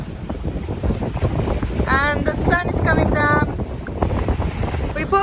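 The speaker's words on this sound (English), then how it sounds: "The wind is picking up quite a lot." Strong wind gusts buffet a sailboat far out at sea, a steady roaring rush across the whole clip with waves and spray underneath and a voice talking partway through.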